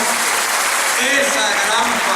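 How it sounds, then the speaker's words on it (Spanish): Audience clapping together at an indoor religious gathering, a dense, even applause lasting a couple of seconds, with voices under it. "merece que nos demos un aplauso todos"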